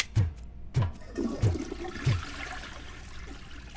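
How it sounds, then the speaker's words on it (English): A toilet flushes in the video game RoboCop Rogue City, with rushing, gurgling water heard alone amid sharp, regularly spaced impacts. "Is that toilet flushing?"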